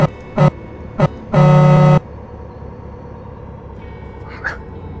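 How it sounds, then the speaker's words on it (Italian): Several short toots from an old-school truck horn in Euro Truck Simulator 2, then one longer blaring honk, followed by quieter background street noise. "Questo è un clacson vecchia scuola."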